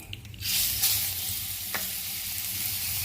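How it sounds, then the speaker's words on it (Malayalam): Fish frying in a little coconut oil in a pan, giving a steady close sizzle and hiss with a faint tap partway through. "എല്ലാം കൂടെ പൊരിക്കുകയാണ്"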